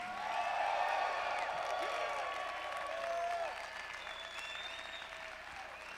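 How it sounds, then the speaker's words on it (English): A crowd applauds and cheers loudly, with whoops rising over sustained clapping that gradually tapers off. "Somebody clap your hands and shout a little bit."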